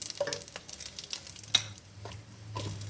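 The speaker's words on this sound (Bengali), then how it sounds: "আমি এখন এটাকে একটু ভালো ভালো একটা হালকা করে একটু ফ্রাই করে নেব" Whole spices including mace, cloves, cardamom, cinnamon, fennel, cumin and bay leaf frying in hot oil for navratan pulao, a soft steady sizzle with stirring, close and fairly quiet, with no talk.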